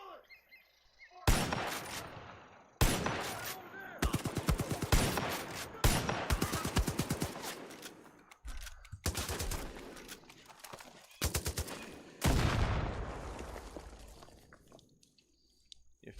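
Repeated bursts of gunfire from a Far Cry 5 firefight, sharp loud volleys separated by short gaps, with a voice shouting over parts of the action.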